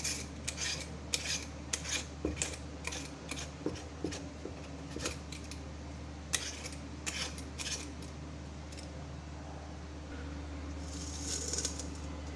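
A knife peels and cuts a hardened ash gourd, making quiet, repeated scraping and slicing strokes in an uneven rhythm, close by with a low background hum and no talking.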